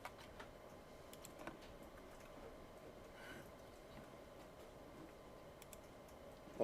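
Faint clicks of cursor keys being tapped on a computer keyboard, scattered light taps over a quiet room hum.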